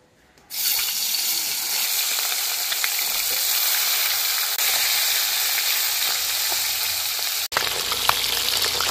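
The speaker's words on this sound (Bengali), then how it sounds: "তেলটা ভালোভাবে গরম হয়ে গেছে। এবার মাছগুলো ভেজে নেব।" Bhola fish drop into hot oil and fry with a sudden loud, hissing sizzle that stays strong and steady, briefly cut off near the end before resuming.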